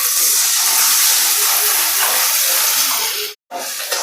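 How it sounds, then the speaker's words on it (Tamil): Prepared curry poured into a hot pan of onion and curry leaves tempered with fenugreek, giving a loud, close rushing sizzle and hiss that cuts off abruptly near the end, then briefly resumes. "நம்ம இப்போ ரெடி பண்ணி வச்சுருக்க குழம்பு தூக்கி அதில் ஊற்றிக்கலாம்."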